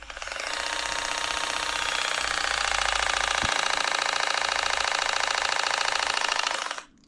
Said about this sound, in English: And then push this in, one press of the button.